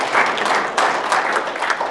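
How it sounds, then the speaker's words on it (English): Steady applause from a church congregation, a dense wash of many hands clapping together, loud and continuous for a couple of seconds. "let's give them a round of applause"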